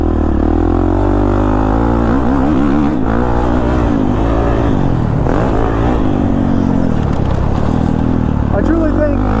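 A Kawasaki KX450 dirt bike engine revs hard while riding, loud and close, its pitch rising and falling with the throttle the whole time under a rider's spoken remarks.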